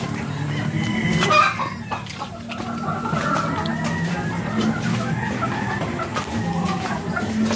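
Hens cluck in a farmyard, soft scattered calls layered over a steady outdoor murmur of background noise.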